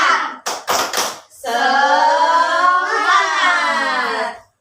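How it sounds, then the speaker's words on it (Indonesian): A fifth-grade classroom performs the tepuk semangat routine: a few sharp rhythmic hand claps open it, followed by children's voices chanting together in a long sustained call. "sekarang kita melakukan tepuk semangat"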